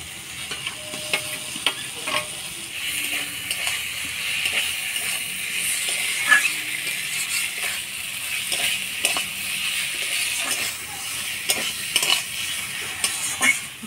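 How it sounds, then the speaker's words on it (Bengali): Fried potatoes are stirred into sizzling spices for a pangas fish curry. A continuous frying hiss sits under repeated scraping and clinking of a spatula against the pan, close and fairly loud. "এবার ভাজা আলুগুলো দিয়ে নাড়াচাড়া করে নিব।"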